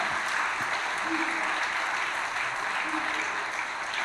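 A church congregation claps in praise to the Holy Spirit, a dense, steady roar of many hands sustained evenly throughout at a moderate distance, with no distinct voices standing out.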